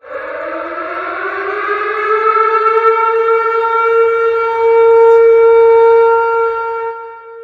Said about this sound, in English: The tornado sirens are tested in our area.